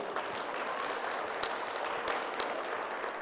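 A seated audience at the 2022 Miss Navajo Nation pageant gives a contestant a round of applause, a faint, even wash of many clapping hands heard from some distance.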